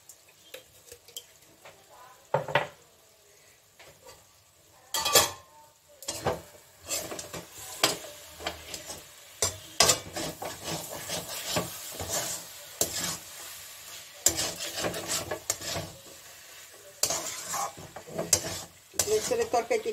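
Jackfruit curry fries in oil in a pan, sizzling softly while a spoon scrapes and stirs in irregular bursts of clatter. The stirring sounds close, with long pauses between the stirs.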